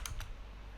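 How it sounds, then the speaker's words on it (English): Two quick keystrokes clack on a computer keyboard at close range, then quiet room tone. "Just type puts"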